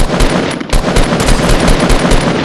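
Rapid automatic gunfire in the battle royale game Fortnite, a dense stream of loud close shots in a fast even rhythm with no talk over it.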